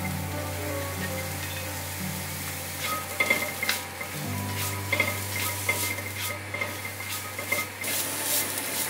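Shiitake mushrooms and carrots stir-fry in a pan with a steady sizzle, while a utensil scrapes and taps against the metal now and then, close up.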